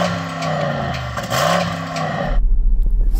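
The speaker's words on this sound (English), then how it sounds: "rev up your engine." A Porsche Cayenne Turbo engine revs up and falls back, its pitch rising then dropping, loud and close, then settles into a low pulsing idle.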